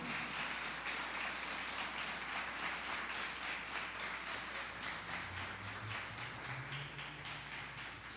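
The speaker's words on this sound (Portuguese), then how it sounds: "Dê um aplauso para Jesus." A church congregation applauds during a Portuguese-language sermon on family peace. Steady, dense clapping from a large crowd fills the room for several seconds and fades only slightly toward the end.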